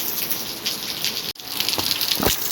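Heavy rain pours steadily outdoors as a broad, even hiss, with a sudden brief dropout midway and a few closer splashing patters toward the end; no one speaks.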